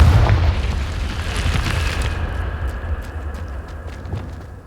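The Confringo fire spell in a Harry Potter video game bursts with a loud, deep boom right at the start, then rumbles and fades slowly over several seconds.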